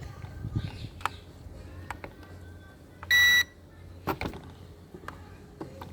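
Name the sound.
drone controller beep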